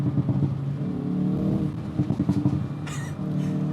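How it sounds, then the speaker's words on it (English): A 2021 Hyundai i30 Fastback N engine revs and burbles close up, its exhaust crackling and popping in quick bursts between throttle blips, loud as a gunshot. "It's like a gun going off at the back of the car"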